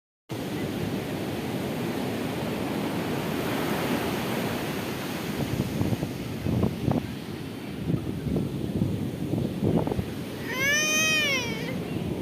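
Sea waves wash steadily onto the shore as a continuous broad roar filling the whole stretch, with a high wavering cry rising briefly near the end.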